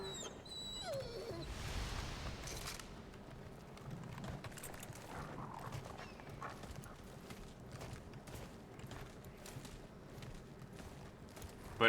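Hostile dogs in the video game Remnant of Ashes whimper and growl faintly against a busy, noisy game soundscape, with no talk and no single sharp bark.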